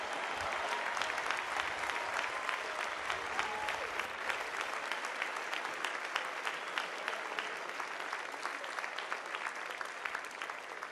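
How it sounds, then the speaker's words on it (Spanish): Long, steady applause from a large congregation at a Catholic Mass during World Youth Day in Lisbon, dense clapping holding an even level for about eleven seconds with no speech over it. "Un aplauso para él y todo su equipo."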